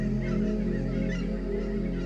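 Geese honk in a thick, continuous chorus, loud and near, layered over a steady low drone.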